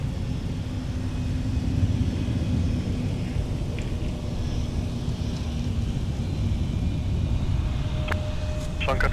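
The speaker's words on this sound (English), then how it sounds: "Right in front of us, the Delta 5337, Delta connection by Endeavor into CRJ 900." A Delta Connection CRJ 900 regional jet operated by Endeavor rumbles steadily at Minneapolis–Saint Paul airport, a broad continuous engine roar from fairly close with faint background noise.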